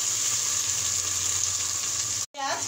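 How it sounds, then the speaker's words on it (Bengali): Onions, onion greens and tomato sizzle steadily in a pan, a close, even frying hiss that cuts out briefly near the end before resuming. "পেঁয়াজ টমেটো সবগুলো ভাজা হয়ে গেছে"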